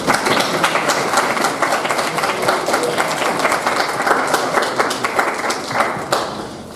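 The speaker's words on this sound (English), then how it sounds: "To have a round of applause for everybody." An audience at a university music service event applauds in a steady, dense round of clapping that holds loud throughout and eases slightly at the very end.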